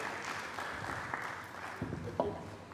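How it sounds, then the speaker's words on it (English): Audience applause at a university pep talk event, a soft wash of clapping that stays fairly quiet and steady for a few seconds with faint voices underneath. "please give him a round of applause"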